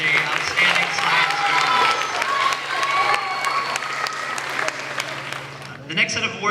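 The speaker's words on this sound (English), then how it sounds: "All right, a round of applause for the outstanding science" Audience applause at a school moving-on ceremony, honoring outstanding science award students; steady clapping across a crowd with a lively mix of voices and cheering underneath, fading near the end.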